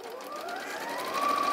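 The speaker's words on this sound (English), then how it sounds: "So we're going to sew close to the inner fold." A sewing machine stitches close to the inner fold of a skirt hem, a steady, fairly loud motor whir that rises slightly in pitch and runs continuously throughout.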